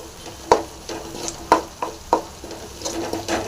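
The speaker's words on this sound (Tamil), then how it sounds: "ட்ரை கருவேப்பிலையும் சேர்த்துடலாம் அது கூடவே" Dried curry leaves frying in a hot tempering for a banana-stem kootu, with a steady low sizzle broken by a few sharp spoon taps and scrapes against the pan, close and alone.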